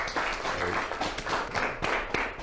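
A classroom group breaks into scattered clapping, uneven hand claps overlapping throughout with some faint voices mixed in.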